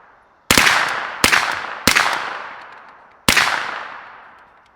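A suppressed MAC submachine gun being bump fired on a range, heard as four sharp, loud reports in quick irregular succession, each trailing off in a long echoing decay across the open range, with no talking.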